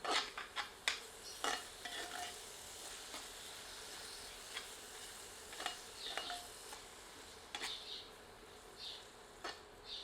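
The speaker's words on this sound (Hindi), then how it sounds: "इसे प्याज के साथ मिलाकर 1 मिनट भूनते हैं" Ginger, garlic and red chilli paste frying with onion in a pan for chicken curry, heard as a faint sizzle under scattered clicks and scrapes of a ladle, busier at the start and again near the end.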